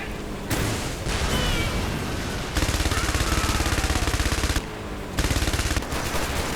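Exploding rounds fired in a first-person shooter game, heard as dense, loud bursts of rapid automatic gunfire in several sustained volleys separated by brief pauses, with no talking over them.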